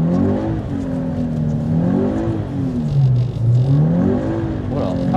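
A drift car's engine holds a steady, droning rev under constant throttle, pitch wavering up and down as the car slides, loud and close, with faint voices inside the cabin.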